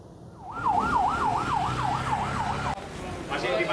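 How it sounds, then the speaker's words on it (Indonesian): Wailing ambulance siren from a convoy carrying a body in Bali, Indonesia, rising and falling in a steady repeated sweep, loud and close over street noise. "Iring-iringan ambulans yang membawa jenazah"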